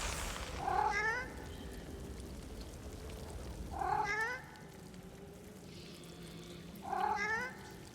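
A cat gives three drawn-out, plaintive meows spaced evenly a few seconds apart over a faint, steady background hiss, within a Divinity Original Sin 2 game scene.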